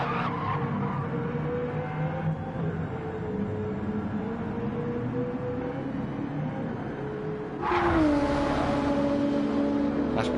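A race car on the Suzuka circuit in a racing video game, engine droning steadily, suddenly breaks into a loud tire squeal and skid near the end as it slides wide, a sharp howl rising above the motor.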